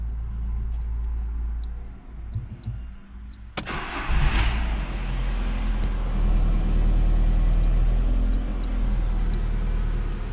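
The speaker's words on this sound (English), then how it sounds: "after that I can start the engine" A car engine is cranked and started after repair work on its engine, catching with a sharp burst and settling into a steady idle; a few short electronic warning beeps sound before and after the start.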